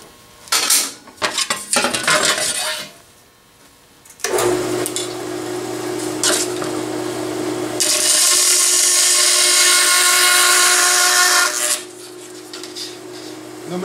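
Aluminum stock for stack blocks is sawn in a shop: a few sharp clanks of handling, then a steady grinding cut that rises into a bright, loud hiss before stopping abruptly.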